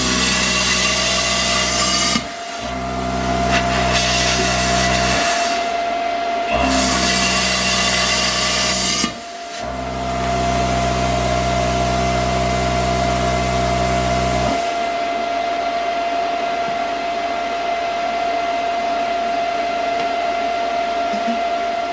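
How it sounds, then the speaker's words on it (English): A plasma cutter being tried on a sink bowl, with a loud steady tonal hum broken by short gaps as it starts and stops several times, then giving way to a rougher, lower rushing noise. "I'm going to try my plasma cutter on this, but I'm just going to blow a hole through the center of it"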